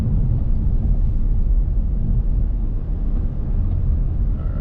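A 2022 Toyota Corolla Cross Hybrid crossover drives over a rough road, giving a dense, steady low rumble of road and tyre noise inside the cabin with no break.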